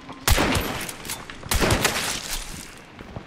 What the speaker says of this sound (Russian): Где-то выстрелы над нами.